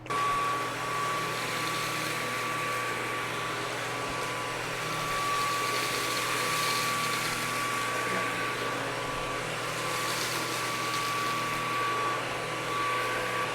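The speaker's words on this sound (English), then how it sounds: "So starting things back off with the Levoit carpet test" A Levoit cordless vacuum cleaner runs steadily on carpet, a constant broadband whir with a thin high whine, loud and close throughout with no talking.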